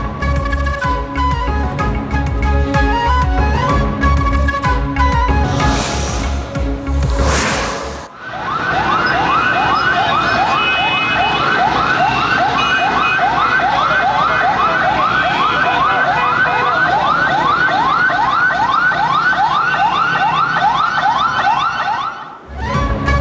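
Fire engine siren at a blaze near a petrol pump and oil tanker in Karachi, loud and close, shifting from a rising wail to a fast, steady warbling yelp that runs on for about fifteen seconds.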